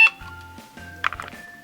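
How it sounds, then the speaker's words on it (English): Low-toned beep from a plastic toy cash register in a doll-sized café playset, sounding as short electronic tones that repeat at a steady rhythm, close and fairly quiet, with no talking. "And then you have 2 noises on the cash register."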